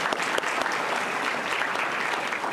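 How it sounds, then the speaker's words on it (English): A room full of people at a school board meeting applauds a student, giving steady, close clapping that lasts the whole moment. "A round of applause for Lucas."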